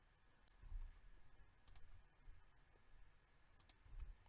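Mouse clicks while saving a new network in the MetaMask crypto wallet: a few sharp, isolated clicks spaced a second or more apart over a low, quiet room hum.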